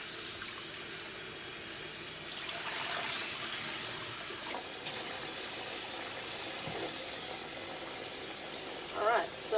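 Tap water runs steadily into a kitchen sink while turkey legs are washed, a constant close hiss with faint handling splashes and a brief louder splash near the end.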